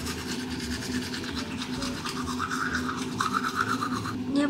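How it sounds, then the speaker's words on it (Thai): Teeth being brushed with a toothbrush during a home self-care routine, a steady close scrubbing rasp that runs continuously throughout with slight rhythmic strokes and no talking. "ระหว่างรอเราก็จะมาแปรงฟันกันนะคะ"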